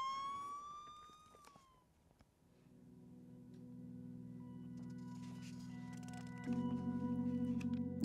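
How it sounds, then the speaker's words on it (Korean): A siren wails and sweeps in pitch at a distance. It then fades into a steady low drone of instruments and rhythm that gets louder toward the end. No one speaks over it. "사이렌이 울리는데요"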